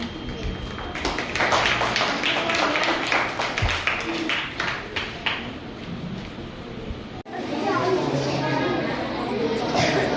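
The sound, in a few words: audience applause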